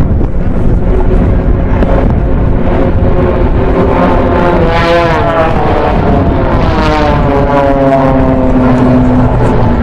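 Blades aerobatic team aircraft roar through the blade break, a 10G pull, loud and continuous with rising and falling propeller-engine tones as the planes sweep past, buffeted by wind noise.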